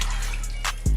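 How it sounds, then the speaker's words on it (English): Water pours into a roasting pan to coat the bottom while a Christmas roast is prepared, giving a short, close trickle and splash that ends with a louder low thump. "Probably put like a cup and a half of water in here."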